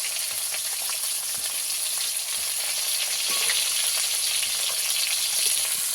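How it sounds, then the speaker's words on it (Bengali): Pieces of rohu fish frying in hot oil, giving a dense, steady crackling sizzle that stays close and even throughout, with no speech. "মাছের সব দিকটা ভালো করে ভেজে নেব।"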